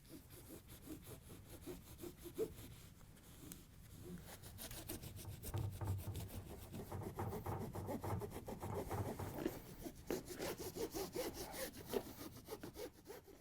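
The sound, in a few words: scraping old foam tape residue off cooktop glass edge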